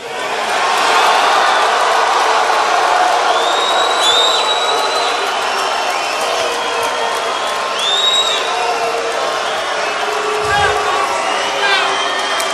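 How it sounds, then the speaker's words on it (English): A large rally crowd shouts, cheers and whoops continuously, a loud dense roar with scattered high yells rising above it, while a voice speaks over the noise. "It sounds like you have a couple of protesters back there."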